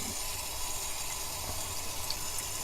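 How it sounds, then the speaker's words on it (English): Running water rinsing soap out of a KN95 mask, a continuous steady splashing flow like a tap, close and unbroken for the whole stretch. "Make sure the soap is all rinsed out."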